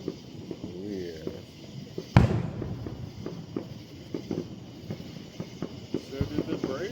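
Fourth of July fireworks in downtown Woodstock, Georgia go off in the distance, with one sharp loud bang and scattered fainter pops, while nearby people chat over a background hum.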